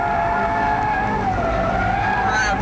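A turbocharged Ford Focus race car with a racing differential corners hard on tarmac, its engine giving a loud sustained whine that shifts in pitch over a rough roar, with faint tire noise.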